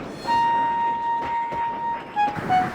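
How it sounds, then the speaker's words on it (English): A steam engine's whistle sounds a long, steady tone, then two short toots near the end, heard over quiet rumbling in a narrated railway story. "His driver blew his whistle and stopped the train."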